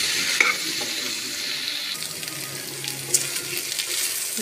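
Water is poured into a pan of chickpea chilli as it cooks on a gas stove, giving a steady hiss and splashing sizzle with faint clinks of utensils against the pan.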